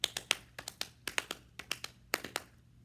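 Light rhythmic tapping of hands imitating horses galloping, performed as an effect during a told story at a library music and storytelling event, quick uneven clusters of sharp taps repeating in a galloping pattern, fairly quiet with no talk.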